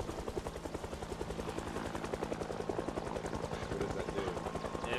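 A helicopter in the survival game Project Zomboid, its rotor thumping in a fast, steady pulse that stays loud and constant throughout, with faint crackles that may be distant gunfire.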